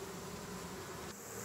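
Honeybees at a hive entrance fan their wings and buzz in a steady, dense drone that fills the whole moment, quiet and continuous, with no voices.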